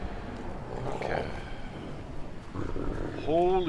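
A dog in the stealth game Thief growls near the Baron's grounds, a rough low snarl that rises into a loud, close, tonal burst at the end after a murky stretch of game ambience.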